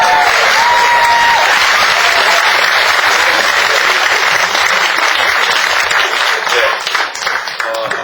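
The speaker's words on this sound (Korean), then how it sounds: "여러분 뜨거운 박수" Loud, sustained applause from a book concert audience, a thick continuous roar of clapping that fills the room and tapers slightly near the end, with a few voices cheering faintly beneath.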